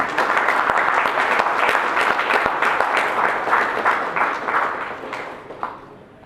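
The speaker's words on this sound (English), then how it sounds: "Please keep the claps coming in." An audience at an agile coaching conference claps steadily and fairly loudly, a dense crowd of hands sustaining the applause before it thins out and fades near the end.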